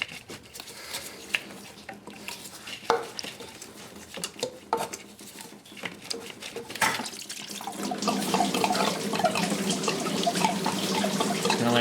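Coolant drains from a disconnected hose on a Honda Accord during VTEC solenoid gasket work, a faint splashing trickle with scattered drips that grows into a steadier, fuller pour toward the end.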